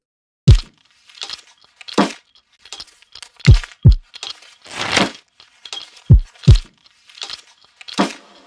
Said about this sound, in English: I'm going to be using RC20 Retro Color. I think sometimes the noise is a bit overpowering.